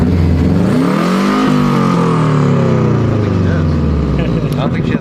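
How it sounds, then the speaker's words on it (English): A Mitsubishi Evo X engine with an exhaust leak revs up and settles, its loud, rasping exhaust note rising and falling close by, with people talking over it. "I like your exhaust leak."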